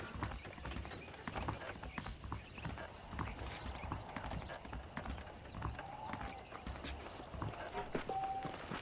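Horse hooves clip-clopping in the Red Dead Redemption video game on a ranch; a steady walking rhythm of hoof falls with faint tack rattle, moderately close, with no talk.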